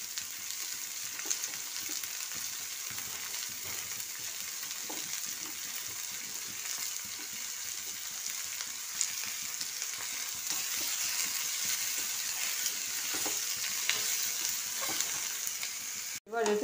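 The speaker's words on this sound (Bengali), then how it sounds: "এটাকে আমি খুব হালকা করে ভাজবো।" Onion and capsicum fry lightly in a pan, giving a steady, even sizzle with faint stirring scrapes and soft clatters. A sharp knock comes right at the end.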